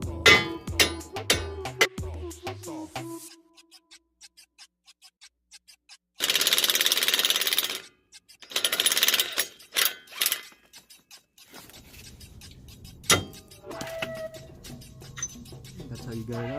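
Sharp metal strikes knocking out a rusty ball joint bolt on a 2008 Nissan Pathfinder front suspension: a few loud, broadband bangs in two clusters, separated by quiet stretches, with some talk at the start.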